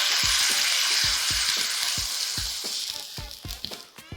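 Pork belly sizzling loudly in a hot pan as boiling water is poured in, a dense hiss with light clatter of a utensil stirring, continuous and close, tapering slightly toward the end.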